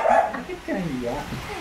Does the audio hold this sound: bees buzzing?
no